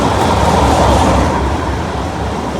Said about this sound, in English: this is where the trains were passing